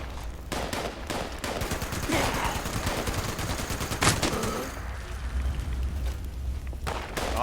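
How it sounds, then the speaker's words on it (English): Rapid machine gun fire in Fallout 76 rattles in dense, continuous bursts with the sharp cracks running together into a steady roar, loud and close with no talk over it. "I just felt like using my machine gun."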